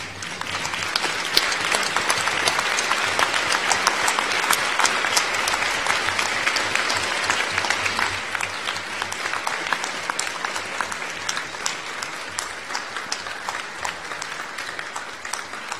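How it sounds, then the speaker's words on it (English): A graduation ceremony audience gives a sustained round of applause, dense steady clapping from a large crowd that holds at full strength for about fifteen seconds with little change. "express their appreciation with a round of"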